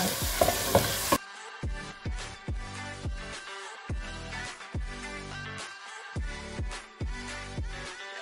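Purslane sautéing in a pan for a Turkish vegetable dish, with oil sizzling under repeated, rhythmic scrapes and stirs of a utensil, close and fairly quiet.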